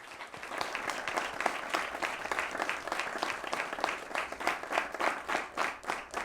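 A seated audience at a forum on road accident risks applauds steadily, a dense, even wash of many hands clapping with a rhythmic pulse growing stronger toward the end.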